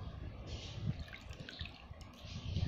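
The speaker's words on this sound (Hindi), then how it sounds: "तो उस कपड़े को हम इसमें गर्म पानी में डिप कर लेंगे" A cloth is dipped into hot water, giving soft sloshing and dripping splashes close by, fairly quiet, with low handling noise.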